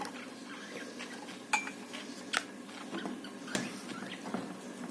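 Feed dishes holding an egg meal with ground cress seed are set into bird cages, faint light clinks and taps of dish against cage wire at irregular moments over a quiet background.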